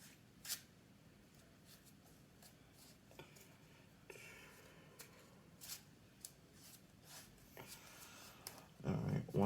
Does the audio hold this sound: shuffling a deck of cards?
yes